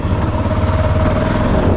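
A Yamaha XT 660 single-cylinder motorcycle engine while riding, a loud steady low drone with a constant hum and wind rush, no talk.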